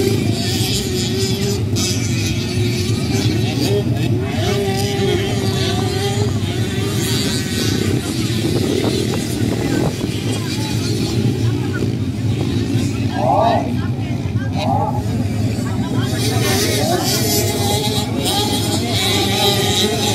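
65cc motocross bikes racing on a dirt track, a dense continuous buzz of small two-stroke engines droning steadily throughout, with a crowd murmuring and an announcer talking over it.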